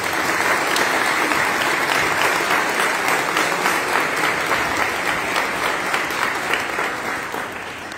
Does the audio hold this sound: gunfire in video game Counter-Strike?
no